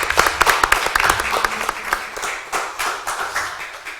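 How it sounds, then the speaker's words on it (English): An audience at an annual seminar and conference claps in a sustained round of applause, many hands at once, dense and fairly close, tapering slightly toward the end. "A round of applause, please, for Benta Adiambo."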